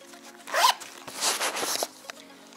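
A zipper rips open on a small baby's care bag in two quick, close pulls, with no talking.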